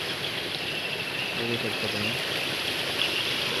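Continuous rushing of a stream that flows into the Arjuna River, broad and steady, with a brief faint voice murmuring underneath midway.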